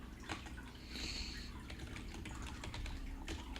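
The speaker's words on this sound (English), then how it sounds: "I'm typing faster than it's showing up" Computer keyboard typing during game development coding work, quick soft clicks in an irregular rhythm, close and moderately quiet, with no talking.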